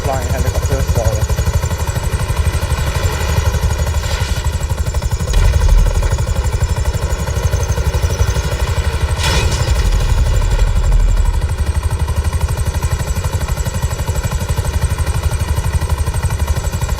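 A helicopter in a milsim video game thrums with a loud, steady rotor and engine drone throughout, with voices talking over it.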